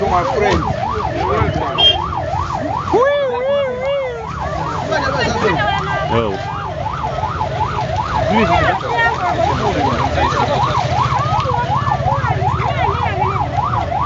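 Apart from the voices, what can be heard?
police siren stuck in traffic jam in Zambia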